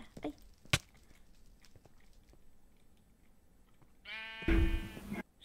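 Sheep bleating in Minecraft, one short buzzy bleat near the end after a few scattered clicks and footsteps, close and fairly loud against a quiet game background.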